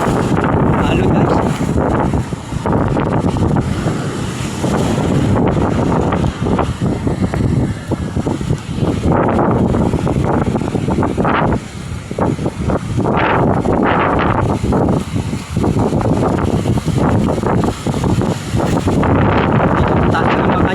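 Strong wind and surf at the shore near Malay by a docked boat, a steady loud roar of wind buffeting the microphone with waves washing in throughout, while a person speaks over it now and then.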